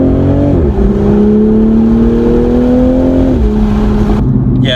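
A 2021 Toyota Supra accelerating on the highway, loud and close, its engine tone climbing steadily through two gear pulls with a brief drop at the upshift between them.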